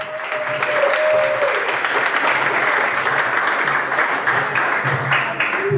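A comedy show audience claps steadily and loudly, sustained applause with a few whistles and faint voices mixed in.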